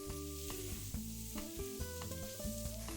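Diced jalapeno and minced garlic sizzling loudly and steadily in a pan for charro beans, with spoon stirs clicking through the frying, no talking.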